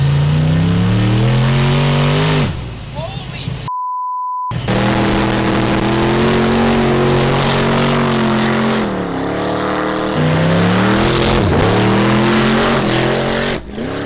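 A featherweight car making over 1,000 horsepower with a drag transmission screams close and loud. The engine wails up through rising revs and shifts, drops out briefly, then climbs again through several sharp pitch sweeps.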